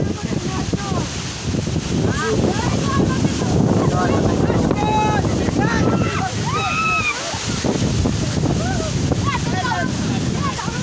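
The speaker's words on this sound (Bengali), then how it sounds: "ঘূর্ণিঝড়ের পূর্ব আভাস দেখা দিল" Strong wind ahead of a cyclone buffets the microphone with a constant roaring rush, while voices talk over it.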